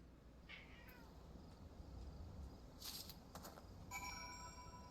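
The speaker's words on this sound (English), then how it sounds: "you may hear my cat meowing at me in the background" A cat named Sabin meowing for attention, a few faint, distant meows with rising and falling pitch behind a low background hum, ending in a longer drawn-out cry.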